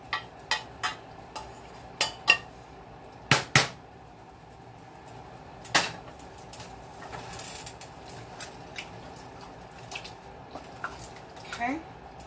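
Baked ziti sauce stirred in a pan, a series of close wet scrapes and soft squelching clicks coming in uneven bursts, quiet between strokes.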